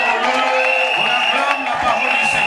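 A church congregation acclaims together, a loud steady wash of cheering, whooping and clapping close by, with voices speaking amid the crowd noise.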